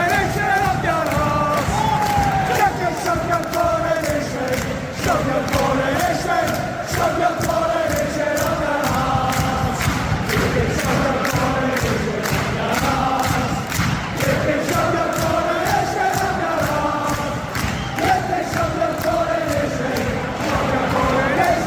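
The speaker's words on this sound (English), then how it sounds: "that was the crowd at a football game between Celtic and Glasgow Rangers in Scotland" Football crowd at a Celtic versus Glasgow Rangers game in Scotland, a massive stadium mass of voices chanting and roaring in rhythmic surges, with clapping-like thuds, continuous and loud throughout.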